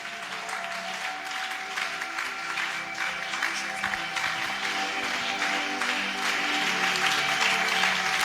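A church congregation applauds continuously, with dense, steady clapping at a constant level from start to end and a faint sustained tone underneath.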